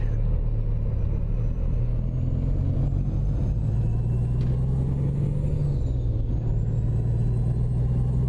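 A steady, loud truck engine in American Truck Simulator rumbles throughout, its low drone shifting in pitch slightly as it runs, with no talking.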